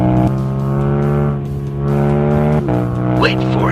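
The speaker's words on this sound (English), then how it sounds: "the bike runs straight off the pavement and tumbles across the grass field." Engine of a Yamaha MT-07 motorcycle droning loud and steady with a rising tone, then a sharp break and scraping squeal as the bike misses a bend and crashes off the pavement, tumbling across grass; music or voices may sit underneath.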